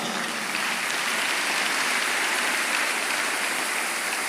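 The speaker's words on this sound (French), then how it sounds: "Eh oui, acclamons les avocats." A church congregation applauding, a steady dense wash of clapping that holds at an even level throughout with no talk over it.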